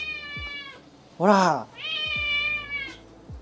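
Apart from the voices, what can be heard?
cat meowing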